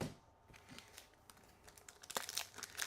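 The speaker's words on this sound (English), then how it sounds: "If it doesn't open right there when I pull, I just tear straight down." Foil trading card pack from a Kakawow Disney Cosmos case being torn open by hand, with crisp crinkling and tearing bursts that grow louder and denser toward the end, heard close up with no talking.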